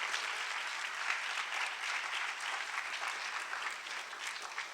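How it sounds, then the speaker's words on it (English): Sustained audience applause at a Stanford Historical Society event following a presentation on a nursery school child care experiment, steady dense clapping from a fairly distant crowd throughout, with no talking. "please join me in giving another round of applause for Christine and that wonderful presentatio"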